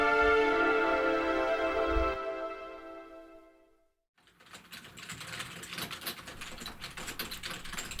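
Keys clatter in quick irregular bursts like a typewriter being worked in an office, moderately close. A sustained musical tone plays over it first, then fades and the typing carries on alone.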